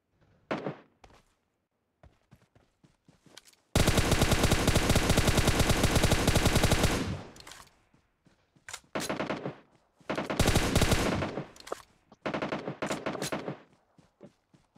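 PUBG Mobile gunfire comes in long sustained automatic bursts and scattered single shots, sounding loud and close. Pauses fall between the volleys.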